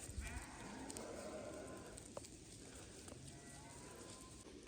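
Sheep and goats from a herder's flock of about 300 in a remote forest bleat faintly and at a distance, set against a steady outdoor background of rustle and noise.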